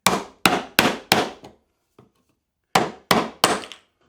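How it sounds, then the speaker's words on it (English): A hammer drives a chisel into wood while new wooden vise jaws are made, four sharp, close strikes in quick succession, a pause with a faint tap, then three more blows in the same brisk rhythm. "So I'm just gonna do a little bit of chisel surgery, I guess you could say."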